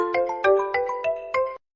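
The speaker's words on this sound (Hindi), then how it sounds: "फोन आ रहा है" A mobile phone rings for an incoming call, a bright melodic ringtone of repeated tonal notes, loud and close, stopping abruptly after about a second and a half.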